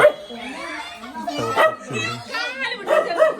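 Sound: dog barking

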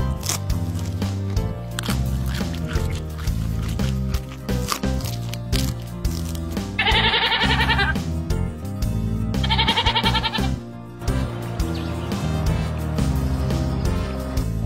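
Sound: goat bleating

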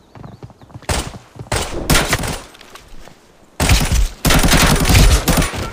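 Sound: gunfire in firefight, from video game Arena Breakout Lite

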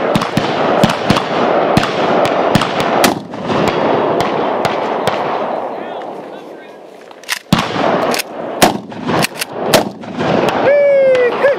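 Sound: short barrel shotgun being fired

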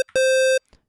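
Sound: saw wave from 3x Osc synth plugin

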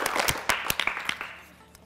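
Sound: audience applause for quiz contestants

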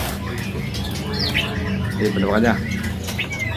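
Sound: murai pasol (magpie-robin) bird singing

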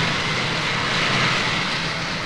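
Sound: jet aircraft at San Juan airport

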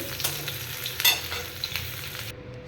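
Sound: vegetables frying in oil for shukto

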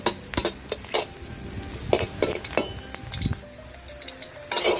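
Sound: stir-frying shiitake mushrooms in a pan for yakisoba

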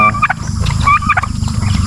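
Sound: turkey gobbling

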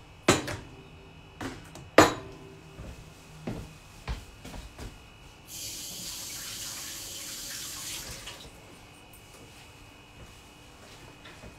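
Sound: washing hands under a running tap

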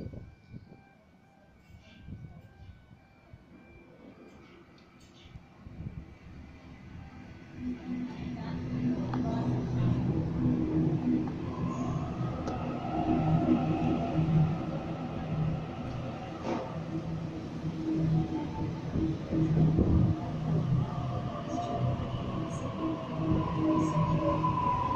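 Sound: Sydney A8 train arriving at East Richmond station platform

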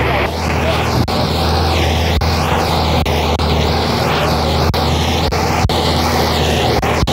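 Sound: tractor pulling a Happy Seeder in the field

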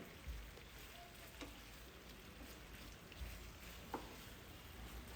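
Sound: stirring chicken to coat it in sauce

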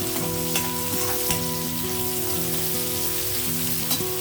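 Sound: broad beans and onion frying in a pan

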